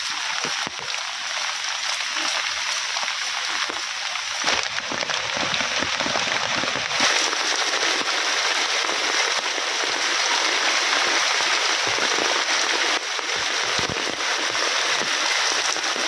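Heavy monsoon rain pouring steadily, a dense close hiss of drops on surfaces that stays loud and unbroken the whole time.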